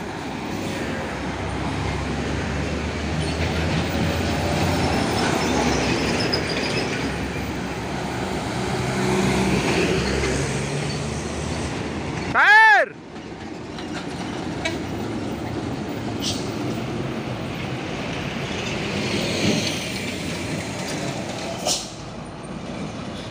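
Two Scania trucks rumble past on a hilly road, a steady loud drone of heavy engines and road noise with a sharp brief horn-like tone midway, continuous and close throughout.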